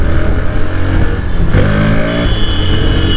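A motorbike engine revs up loudly and steadily as the rider pulls away at the start of a long ride from Pakur to Dumka, with a rising pitch midway through.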